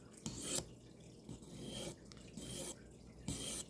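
A steel knife blade stroked repeatedly across a sharpening stone, giving rough rasping scrapes in a steady back-and-forth rhythm of about five passes, close and fairly quiet.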